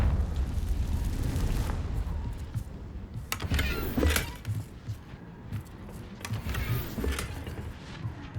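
Booming Bombarda and Confringo spell blasts in Hogwarts Legacy, heavy rumbling bursts with sharp crackling impacts around the middle and again later, over a continuous low game-ambience roar.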